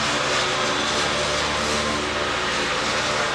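Ford Galaxie V8 idling just after its idle was turned down, a steady loud engine rumble close by with a faint rhythmic lope, continuous and with no speech.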